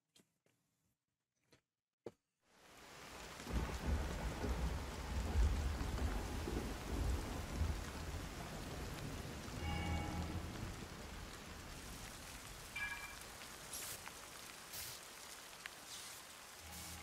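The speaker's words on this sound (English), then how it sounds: "Was that why it started raining?" Game rain and thunder in Zelda: Tears of the Kingdom swell in after a few soft clicks, settling into a steady downpour with low rumbling thunder and occasional brighter tones on top.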